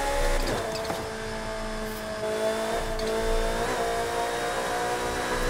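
A modified Ferrari Portofino convertible in Forza Horizon 5 runs at high revs near 10,000 rpm with the roof open. Its engine gives a fairly faint, sustained whining drone that rises and shifts slightly in pitch, with no talking.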